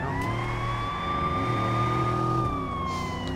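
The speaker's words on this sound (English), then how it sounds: "Oh, it's an ambulance this time." An ambulance siren in Watch Dogs wails steadily alongside a rumbling vehicle, held at a fairly loud, close level for a few seconds with no speech.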